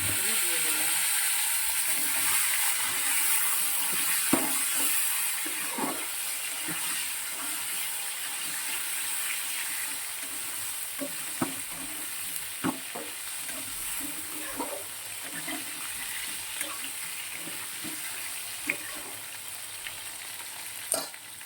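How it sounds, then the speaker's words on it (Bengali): Cumin seeds spitting in hot oil left in a kadai after frying fish, a continuous loud hiss with scattered pops and stirring knocks throughout, and some faint talk underneath. "কড়াই যে তেলটা ছিল, সেই তেলের মধ্যে সাদা জিরে ফোড়ন দিয়ে দিয়েছি।"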